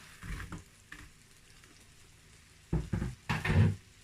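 Garlic, ginger and leek stir-fry in a pot, giving short sizzling bursts and scraping stirs separated by quieter pauses, close and alone.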